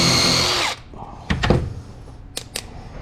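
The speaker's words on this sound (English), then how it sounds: "So I'm gonna drill these holes out" Power drill fitted with a 3/16 bit boring holes in a Micarta knife scale: a loud steady whine for under a second, then a few short bursts of drilling and clunks spaced apart.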